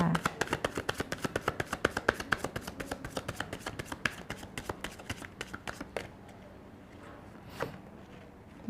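Tarot cards shuffled in the hands, a rapid run of crisp flicking riffles for several seconds that then thins out into a few slower, softer card sounds, close up with no talk.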